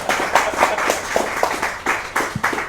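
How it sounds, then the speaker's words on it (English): Audience clapping in a hall after an author's talk, a steady patter of many hands with slightly uneven bursts, moderately near and continuing without voices. "let's give one more round of applause"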